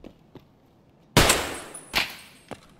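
Video game gunfire during a squad match: a loud burst at about one second with a second shot a moment later, then fainter pops trailing off, with no talk.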